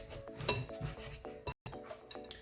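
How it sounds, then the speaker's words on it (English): Whisking ingredients for banana nut bread in a bowl, a faint run of light metallic clinks and taps against the bowl's side in uneven bursts, with no talking. "And just going to whisk that in"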